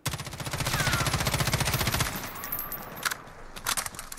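MCX Virtus SBR firing full-auto in Call of Duty Modern Warfare: a rapid, steady burst of gunfire for about two seconds, followed by a few short scattered shots.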